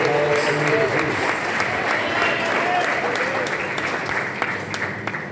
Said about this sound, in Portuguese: As palmas que louvam ao Senhor Jesus.